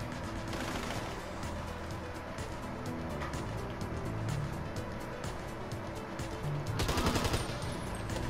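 Gunfire in Grand Theft Auto V, with steady bursts of rapid shots over vehicle and engine noise, building to a louder volley near the end.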